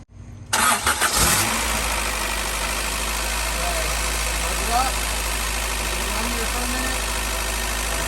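An Acura Integra GSR engine cranks and catches, then settles into a steady, even idle that runs close and loud throughout; it has a power steering leak.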